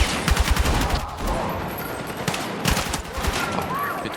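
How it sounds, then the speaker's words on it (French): Thrown grenade blast and bursts of rapid gunfire in the Battlefield 6 campaign, loud and close, with sharp repeated shots at the start and a heavy boom near the middle. "J'envoie une grenade."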